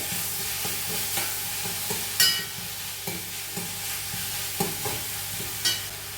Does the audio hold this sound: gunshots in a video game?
no